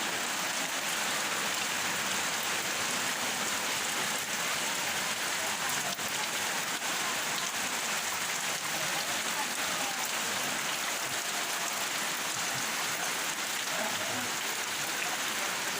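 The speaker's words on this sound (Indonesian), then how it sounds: "Suasana hujan." Steady rain falls on a village during the Eid al-Fitr holiday, a constant hiss of drops on surfaces that stays even and moderately close throughout, with no voices.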